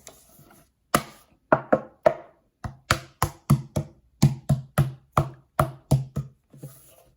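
Repeated knocking on the hollow wooden panel of a modern console table, a few scattered raps at first, then a steady run of sharp, resonant knocks, close by.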